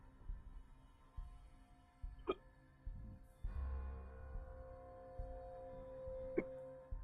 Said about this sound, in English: Excuse me, I got the hiccups.